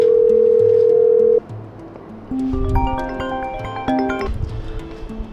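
A phone call is being placed: a steady ringing tone sounds for over a second, then gives way to a quieter stretch of chiming electronic notes.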